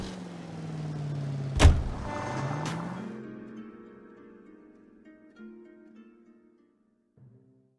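Car in the L.A. Noire video game pulls away with a loud engine burst and rev, then its hum fades steadily into the distance, leaving near silence by the end.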